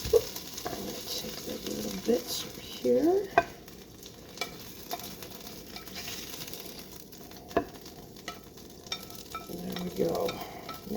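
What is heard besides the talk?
salmon frying in a pan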